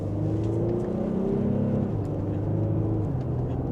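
A 2025 GMC Acadia AT4 driving in sport mode, its engine note rising and falling in a smooth, steady hum as it accelerates, heard from inside the cabin at moderate volume without talk.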